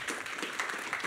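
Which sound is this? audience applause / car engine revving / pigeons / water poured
audience applause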